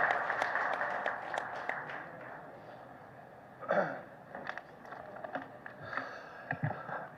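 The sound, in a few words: audience applause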